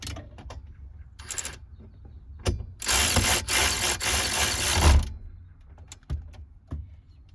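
Socket wrench tightens a bolt during fuel and brake line work on a 2001–04 Kia Rio: a few quick ratchet clicks, then a dense, loud run of clicking strokes, then scattered clicks, close by.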